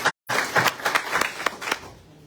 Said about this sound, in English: give a round of applause to our committee and thank you for all their hard work